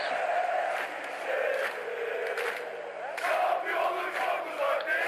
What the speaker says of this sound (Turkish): Eskişehir'in tezahüratını, tezahüratı çok severdim